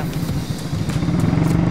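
A motorcycle engine running close by, a loud continuous rough rumble with slight pulsing and a steady rise in intensity, with no talking over it.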